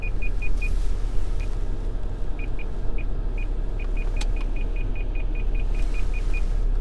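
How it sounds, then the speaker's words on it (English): Short high electronic beeps repeat irregularly, then settle into a steady rapid series, faint over a continuous low vehicle rumble. "That beeping noise. You can probably hear it on the microphone."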